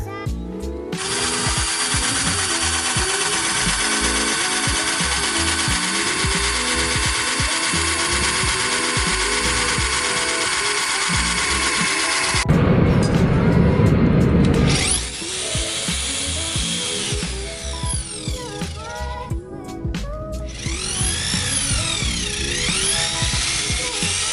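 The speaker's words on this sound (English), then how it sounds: "That drill bit was dull as fuck." A power drill with a dull bit grinds at a hole in long whining bursts, stopping and restarting several times, with a rougher scraping spell midway, close and loud with no talking.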